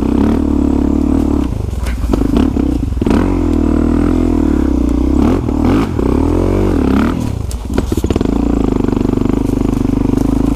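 A DRZ dirt bike rides along a trail, its engine droning loud and close throughout with rising and falling revs as the rider works the throttle, plus some clatter and scraping from the terrain.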